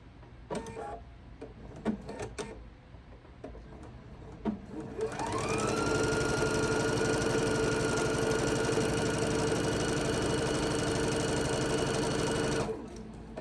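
A sewing machine stitches a quarter-inch seam along a line on quilt fabric for half square triangles, starting after a few soft handling knocks and then running in a steady close whir for about seven seconds before stopping.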